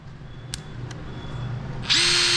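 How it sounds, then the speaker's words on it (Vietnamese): A cordless drill in hammer drill mode kicks on near the end and whirs loudly up close after a quiet stretch of faint background hum and a couple of small clicks. "Chế độ khoan búa,"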